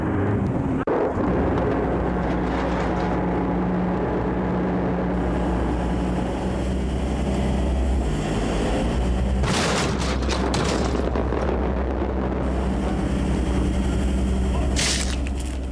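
Police boats ram Greenpeace boats on the North Sea, heard as a loud, continuous roar of engines and churning water with heavy rumbling booms and bursts of splashing throughout.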